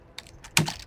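A few quick keystrokes on a computer keyboard while a console command is typed into Skyrim, soft close clicks in a brief burst over quiet background.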